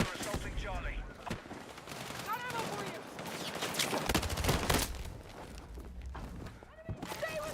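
Video game gunfire crackles in rapid bursts and scattered single shots, fairly close, mixed with shouted talk over the action.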